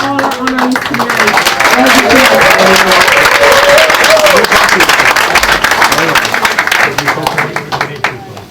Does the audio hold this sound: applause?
yes